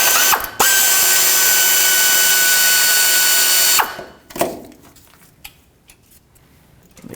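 A ratchet wrench zips steadily while backing out a 10mm bolt on a Chevrolet Express transmission, then stops, leaving a few faint metallic clicks and handling sounds close by.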